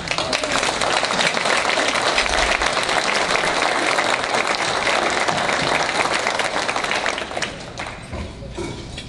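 Audience applause at a gun-rights association gathering, a loud, sustained burst of many hands clapping that holds steady for most of the stretch before tapering off near the end.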